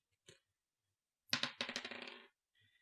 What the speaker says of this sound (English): Rolling a dice.